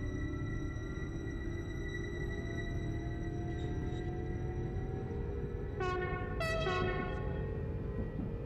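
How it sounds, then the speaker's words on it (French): A Flirt 3 train in Train Simulator on the Frankfurt–Koblenz line sounds two short horn blasts over a steady engine and rail rumble, loud and alone. "J'adore le sifflet de ce flirt."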